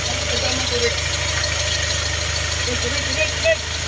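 The CRDi diesel engine of a Hyundai Starex runs steadily with a low, even rumble, close and loud, while people talk nearby.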